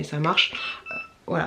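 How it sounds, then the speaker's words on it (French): A baby monitor that has lost its signal gives a thin, high, steady beep, heard beneath a person talking nearby. "ça va faire ça en mode j'ai perdu le signal et ça va biper"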